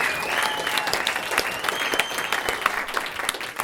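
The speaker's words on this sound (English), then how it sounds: "So, give it a clap" Wedding guests clap steadily at a reception during the groom's speech, a dense close patter of many hands that carries on evenly throughout.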